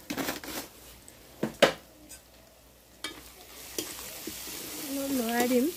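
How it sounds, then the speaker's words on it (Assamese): Jackfruit curry being stirred in a frying pan, with scraping strokes and soft sizzling at low level, a few sharper spatula knocks, and a brief voice near the end. "অলপ লৰাই দিম"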